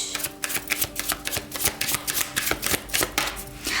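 Tarot cards are shuffled close up in a fast, uneven riffling rhythm of papery slaps and flutters that runs continuously, with no talk over it.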